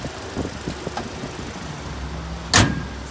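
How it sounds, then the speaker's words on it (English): A 2016 Toyota Hilux engine idles quietly with a low, steady hum, broken by a few soft clicks and a sharp clunk like a door or latch near the end. "Super quiet motor, it's running at the moment."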